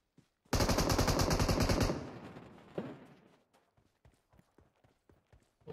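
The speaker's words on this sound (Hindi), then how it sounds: "कौन है 98 की शॉट करा रहा है यार" Rapid automatic rifle fire in PUBG, a dense burst of shots lasting over a second, loud and close, followed by a single distant shot and faint clicks.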